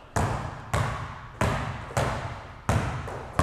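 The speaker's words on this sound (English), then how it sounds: "and then Iverson crossover right there" A basketball bounces hard on a court during an Iverson crossover dribble, six sharp thuds in a quick, slightly uneven rhythm, close and clear with no talking.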